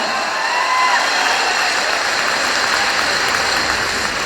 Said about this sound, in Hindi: तो तालियां ऐसे नहीं, हाथ उठा के बजाओ, जानदार तालियां।